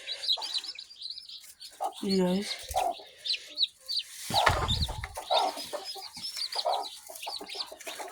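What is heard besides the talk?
newborn chicks chirping and hen clucking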